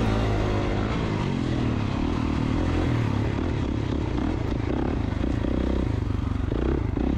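Motorcycles ride slowly at a rain-day slow bike practice, a steady close engine drone mixed with wet road hiss and some clatter, with no clear revving peaks.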